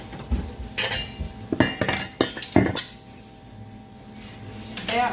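Metal canning lids clinking and clattering as they are picked up for pineapple jam, a burst of sharp metallic chinks close by with a few louder knocks, then a quiet stretch before one last clink.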